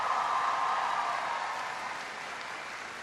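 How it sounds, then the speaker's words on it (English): Audience applause at a speech by President Obama at Knox College, a dense, even wash of clapping that fades slightly toward the end, with no talk over it. "Give Teresa a big round of applause."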